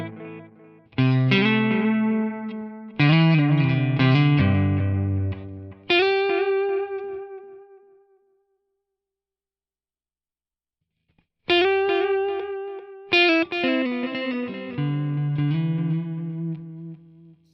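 Electric guitar phrases through a Quad Cortex modeler with a delay effect, its mix turned up so the dark echoes trail more audibly after each chord. Two bursts of playing are separated by a few seconds of near-silence, with no talk.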